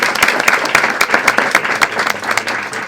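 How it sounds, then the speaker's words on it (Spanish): An audience breaks into lively applause, dense, steady clapping throughout with only small rises and dips. "Bueno, un aplauso."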